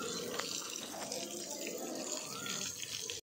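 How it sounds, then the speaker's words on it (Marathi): Water is sprayed steadily over a dusty car parked near a shed, giving a continuous broad hiss and splash that holds at an even level throughout before cutting off abruptly. "म्हटलं जरा पाणी मारून मग शेडमध्ये टाकतो"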